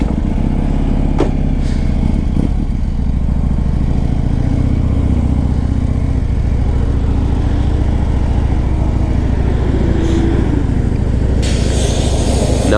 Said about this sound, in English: Let's take it for a spin.